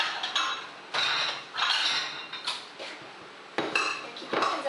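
Dishes and a bowl clatter and clink as peaches are moved into a smaller bowl during home pie baking, with several close bursts of handling and scraping separated by brief pauses.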